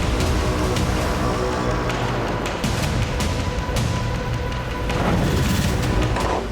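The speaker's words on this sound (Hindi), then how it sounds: "रूस के सैनिक लगातार यूक्रेन के हॉवित्जर को नष्ट कर रहे हैं।" Heavy artillery explosions in a war zone where howitzers are being destroyed: a dense, loud, continuous rumble with several booming blasts rising out of the roar and no clear voices.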